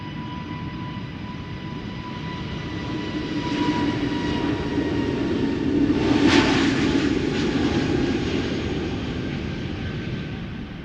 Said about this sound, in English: The A320neo outbound to Reykjavik